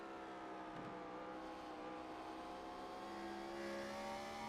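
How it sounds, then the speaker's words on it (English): A race car engine screams at high revs in the iRacing sim at Sonoma Raceway during a pro series race, a steady loud whine with layered harmonics that rises slightly in pitch toward the end as cars brake hard, no voices. "you hear that engine screaming too, as these guys dive down deep into the biggest braking zone on the track"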